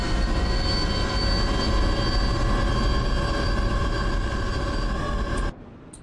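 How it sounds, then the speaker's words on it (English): Loud, steady roar of jet aircraft engines in War Thunder during a battle, a dense continuous drone with whining tones that runs nearly unbroken and then cuts off abruptly near the end. "Jet engines loud."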